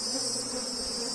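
Apis honey bees swarm around a hive box in a dense, steady high-pitched buzz, loud and close, with no voices over it.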